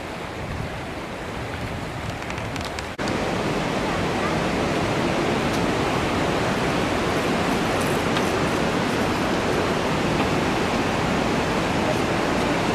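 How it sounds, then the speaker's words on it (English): The Green River flows with a steady, broadband rushing of water heard nearby, continuous and loud throughout, growing slightly louder after a few seconds, with faint wind mixed in. "the beautiful Green River"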